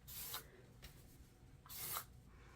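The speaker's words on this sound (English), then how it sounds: "And a little bit of hairspray." Two short bursts of hairspray are sprayed onto a human hair wig being crimped for volume, each hiss clear against a quiet room.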